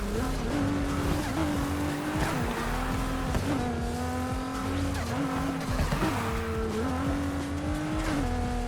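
A race car in Need for Speed Heat roars steadily through a race, its engine pitch rising and dipping with gear changes while tires squeal, loud and continuous throughout.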